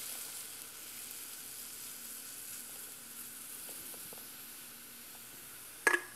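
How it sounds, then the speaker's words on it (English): Beer poured into a hot pan gives a soft, steady hissing sizzle, low and even at moderate distance, ending in a brief sharp clatter. "we're going to add the beer"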